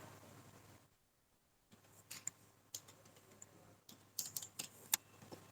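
Close, quiet computer keyboard typing: irregular clusters of light key clicks after a brief silence, with the keystrokes picking up toward the end, and no speech.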